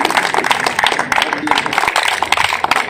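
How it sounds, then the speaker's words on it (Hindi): An audience gives Shobha Sisodiya dense, loud applause, with many rapid overlapping claps filling the room for a few seconds. "जोरदार तालियां शोभा के लिए"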